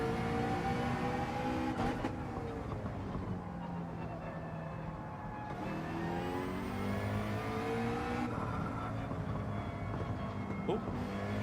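A McLaren race car engine in Gran Turismo 7 drones continuously, rising and falling in pitch through gear changes and revs, loud and sustained across the whole stretch.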